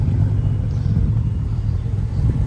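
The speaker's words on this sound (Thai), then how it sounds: "ปลายท่อ บึ้มๆเลย" Used car for sale in Sena, Ayutthaya, idling with a deep, steady exhaust rumble from its aftermarket pipe, a continuous low drone held close and loud, with no talking over it.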